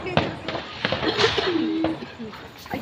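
Diwali firecrackers bursting outdoors, a series of sharp sudden pops at irregular intervals, with pigeons cooing and voices in the background.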